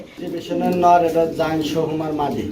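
Male exhibition pigeons coo in a close, warbling burst of rising and falling calls that carries on for a couple of seconds, with a person talking over them.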